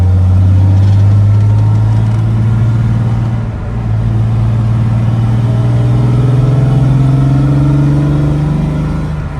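A Mercedes-Benz W220 S600 V12 engine runs loud and close, a smooth steady drone whose pitch rises gradually over several seconds, with a brief dip in the middle and no voices.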